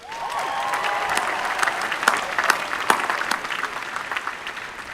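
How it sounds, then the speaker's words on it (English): A graduation audience applauds the Army, Navy and Air Force ROTC color guard, dense loud clapping from a large crowd that swells and then gradually thins out. "please join me in a round of applause for the members of the Army, Navy, and Air Force ROTC who presented the colors"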